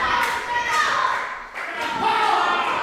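A wrestling crowd at a Braintree event roars and claps for James Pharrell, a dense, loud, sustained wash of cheering and children's shouts with thumping claps, dipping briefly in the middle before surging again.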